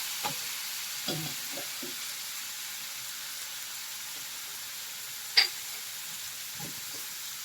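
Spinach with coriander frying in a pan: a steady, soft sizzling hiss close by, broken by a few light spoon scrapes and one sharper clink as it is stirred.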